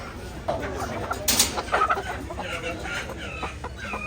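Red hen clucking at Jagannathpur Bazaar, a few scattered clucks and squawks amid market bustle, with people talking nearby.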